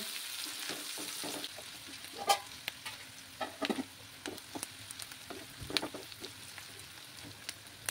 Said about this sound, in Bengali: আমি এখানে 2টো বড় সাইজের পেঁয়াজ কুচি করে নিয়েছিলাম। সেগুলো ভালো করে ফ্রাই করতে হবে, লাল লাল করে ভেজে নিতে হবে।